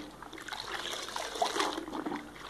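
A crepe bandage is soaked and gently moved up and down in a basin of water, giving soft continuous trickling and sloshing that swells slightly midway and stays close and fairly quiet.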